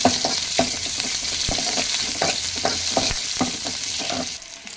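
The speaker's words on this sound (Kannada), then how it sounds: "ಈಗ ಈರುಳ್ಳಿನೂ ಹಾಕೊಳ್ಳಿ. ಇವೆರಡೂ ಫ್ರೈ ಮಾಡಿ ಕೆಂಪುದಾಗಿ." Onion and garlic fry in a pan for a tamarind rasam, a steady close sizzle broken by repeated soft scraping stirs of a spoon against the pan.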